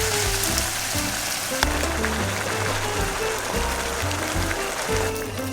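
Tomato sauce sizzling and frying steadily in a pan at a camping site, a continuous close crackle under a low tonal hum, with no talking.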